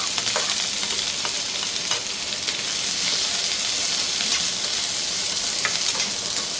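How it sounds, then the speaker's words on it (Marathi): Onion fries in hot oil in a pan for a Konkani-style fresh cashew bhaji: a dense, continuous, close sizzle with crackling hiss that holds steady throughout. "तेल गरम झालं, आता ह्यामध्ये मी कांदा घालते।"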